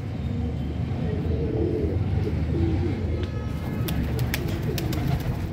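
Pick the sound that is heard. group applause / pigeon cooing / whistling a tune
pigeon cooing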